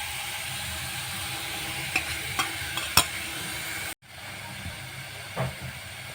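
Mawa stirred into dissolved sugar for a beetroot, carrot and coconut vadi, with a few sharp scraping clicks over a low steady hiss, a brief cut of silence partway through, then a softer stir.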